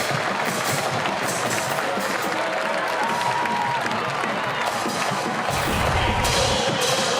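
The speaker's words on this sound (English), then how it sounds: "And North Carolina takes a 1-0 lead. Murphy lurking, a shot from Patterson, denied by White, but the crowd loves it." A crowd cheers and applauds at an NCAA women's soccer match between Virginia and North Carolina after North Carolina scores, a steady roar of voices and clapping that swells near the end.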